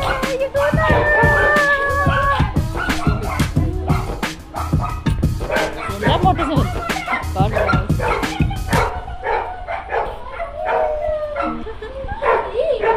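Several dogs bark, yip and whimper loudly and close by as visitors arrive at a home, with excited overlapping barks that ease toward the end while people talk in the background.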